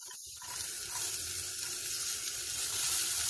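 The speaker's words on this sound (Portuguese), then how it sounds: "Vou refogar bem para eu poder colocar a carne." Onion, bell pepper, chili pepper and tomato sauté together in hot oil, making a continuous, close, bright sizzle that grows slightly louder and carries on without speech.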